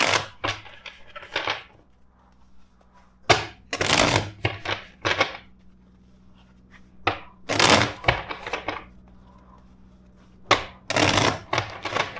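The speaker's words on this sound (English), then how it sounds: "First, let's shuffle the deck four times." A deck of tarot cards is shuffled in several separate bursts of quick, crisp riffling and slapping, close and fairly loud, with quiet pauses and a faint steady hum between them.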